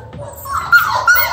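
A puppy whimpers close by in a few rising, high-pitched whines, the last two sharper, with no talking.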